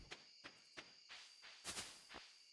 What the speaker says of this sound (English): Crickets and the beetles and... Ooh. What are they? Cicadas?